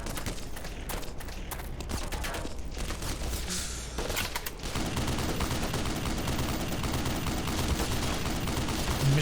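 Machine gun fire in Black Mesa, rapid bursts of close, sharp shots rattling on and off, then a thicker, louder stretch of continuous gunfire and battle noise to the end.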